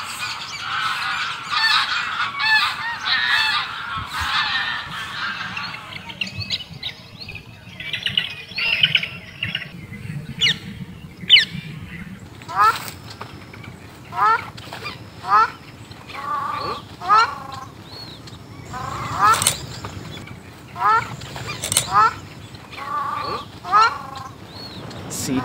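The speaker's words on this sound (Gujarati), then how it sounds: "અહીંયા અત્યારે એકદમ પિન ડ્રોપ સાયલેન્સ છે અને પક્ષીઓનો સુંદર અવાજ આવી રહ્યો છે." Waterbirds at the Thol Bird Sanctuary lake in Gujarat call, starting with a dense mixed chatter and then a goose-like honk repeated at regular intervals, clear and moderately near in an otherwise quiet setting.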